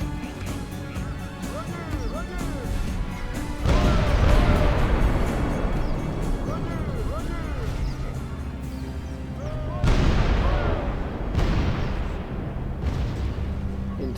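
Artillery volleys in Medieval 2 Total War thunder as deep booms, with two heavy bursts standing out over game sound and a voice speaking.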